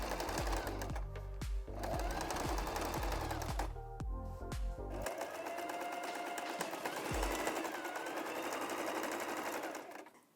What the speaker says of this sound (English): sew along this to attach this piece onto the main fabric